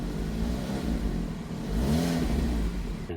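A Volvo V70 exhaust rumbles steadily close by as the engine revs, a low drone that rises briefly in the middle before settling, with no talk over it.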